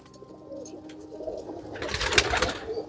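Kaldume pigeons coo in a low, throaty rumble, starting soft and swelling louder near the end, heard close with no talk.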